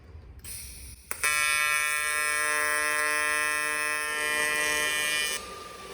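Miller Multimatic 220 welder running with high frequency on an outside corner joint: a steady, loud electric buzz with a sharp onset, held for about four seconds before cutting off.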